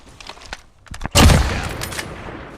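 Video game gunfire: a few faint clicks and taps, then one sudden loud close shot with a booming low burst and a decaying reverberant tail.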